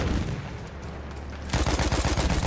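Rapid gunfire in Battlefield 1 comes in two bursts, a quieter, denser rattle followed by louder, sharper rounds, with no talking over it.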